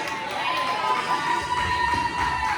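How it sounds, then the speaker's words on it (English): Audience at a live entrepreneur dating game show event cheers and applauds for the contestants, a dense steady crowd roar with scattered shouts that holds for the whole stretch, fairly loud and continuous. "Let's give a round of applause for all of our contestants"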